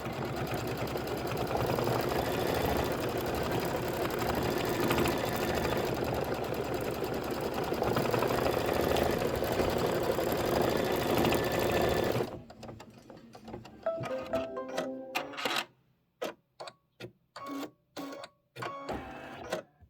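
A Kimberbell embroidery machine stitches a decorative pattern with a loud, steady mechanical whir for about twelve seconds, then shifts to short bursts of clicking and tapping separated by brief pauses.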